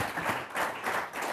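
Audience applause in a hall after a talk at a European evening event, a steady wash of many hands clapping, moderately near, rising and falling in waves with no speech.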